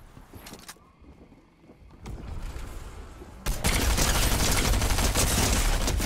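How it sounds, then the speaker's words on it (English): Rapid SMG gunfire from a first-person shooter video game crackles in dense, loud bursts that build and grow continuous toward the end, with no talking. "I just outgunned someone using an SMG"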